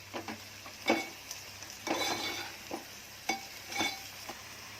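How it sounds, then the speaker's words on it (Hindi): Onions frying with salt in a pan, a steady soft sizzle under repeated scraping stirs of a spoon against the pan, close and without speech. "प्याज को तल रही हूँ"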